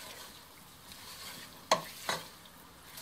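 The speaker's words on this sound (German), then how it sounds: "Einmal umrühren" Rice and meat for Austrian Reisfleisch are stirred in a pot over a quiet low sizzle. Two distinct metallic scrapes of the spoon against the pot stand out near the end. No one speaks.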